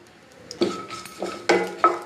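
Metal spatula scraping and clinking against a kadhai as grated dry coconut roasts with a little oil, a few distinct knocks spaced over about two seconds, close and moderately loud with no talking.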